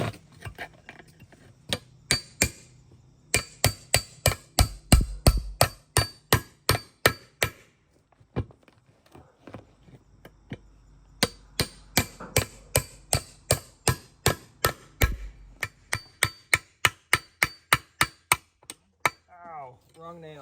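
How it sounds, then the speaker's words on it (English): A cold chisel is struck repeatedly with a hammer to break a rusted tire bead, giving sharp metallic clanks in steady rhythmic bursts with short pauses between runs. "I'm going to use this cold chisel and see if I can break the bead all the way around"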